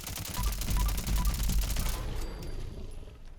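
A weapon in Fallout 76 fires a fast automatic burst for about two seconds. The rattling shots then cut off, leaving a fading tail and faint ambient tones.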